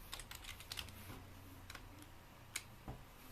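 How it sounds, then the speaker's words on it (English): Keys clack on a standard Dell computer keyboard connected to a laptop, in a quiet run of light, uneven taps with a couple of sharper strikes, close and fairly soft. "we've hooked up this standard Dell keyboard to my laptop"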